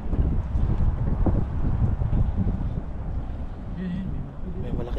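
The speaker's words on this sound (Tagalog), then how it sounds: "Uy, sarap ng hangin." Steady wind rushes and buffets continuously by a river, heavy low rumble throughout, with water and boat noise mixed in and voices faintly underneath.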